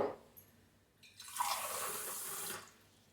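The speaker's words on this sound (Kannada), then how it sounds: "ನೀರನ್ನು ಹಾಕ್ಕೊಳ್ತಾ ಇದ್ದೇನೆ." Water poured from a small container into a gram flour and salt mixture for muruku dough, a short close splashing pour lasting about a second after a few faint drips.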